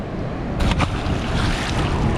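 A released trout smacks into the Niagara River with one brief, close splash, set against the constant wash of flowing water and wind buffeting the microphone.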